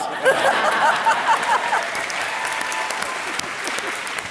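A comedy debate audience applauds, a dense clapping burst mixed with some laughter that fades into a lighter, sustained patter.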